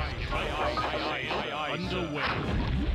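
Cannon fire booms in the Warcraft 2 Tides of Darkness strategy game, several dull thuds mixed into busy game sounds while someone talks over them throughout.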